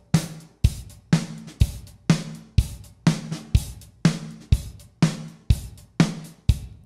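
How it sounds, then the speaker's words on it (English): Raw drum tracks recorded as a room test, a steady pattern of about thirteen punchy kick and snare hits with ringing room decay, loud, close and unaccompanied. "these are raw drum tracks that were done a couple days ago as a room test"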